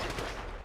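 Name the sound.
gunfire in a video game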